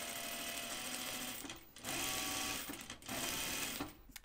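A sewing machine stitches parallel lines on an unlined jacket, running in steady rapid bursts with two short pauses, heard close and fairly quiet.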